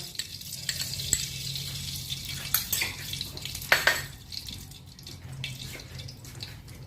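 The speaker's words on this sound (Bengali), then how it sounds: "লাচ্ছাটাকে একটু হালকা করে ভেজে নেব" Lachha semai frying lightly in ghee, a soft sizzle with intermittent stirring scrapes and clinks, close up and moderately quiet, with no voices.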